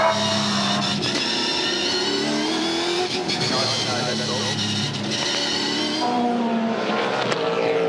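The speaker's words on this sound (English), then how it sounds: "It's a short wheelbase version of the Nissan Altima being driven by Todd Kelly. It's gone into the garage" A short-wheelbase Nissan Altima Supercars race car at a Sydney 500 race pulls into the garage, its engine revving and whining loudly and steadily under continuous commentary and crowd noise.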